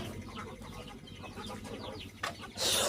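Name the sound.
guinea fowl and chickens clucking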